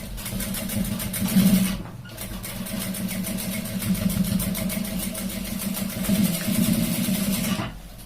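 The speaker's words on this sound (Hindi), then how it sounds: "यहाँ पर हमारी सिलाई लगेगी" A sewing machine stitches a seam on trousers, running in a steady loud mechanical whir with rapid needle rhythm, pausing briefly twice and then restarting, with no talking.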